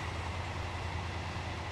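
Continuous low rumble of a train running in the Stepford County Railway video game, steady and moderately loud throughout with no talk.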